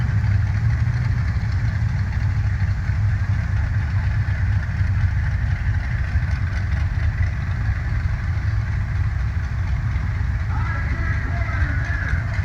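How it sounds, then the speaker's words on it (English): An offroad racing machine with a rowdy small-block engine at a hill race, a close, loud, rough-running rumble holding steady for the whole stretch with a faint higher tone creeping in near the end. "Seems got a pretty rowdy little small block in it."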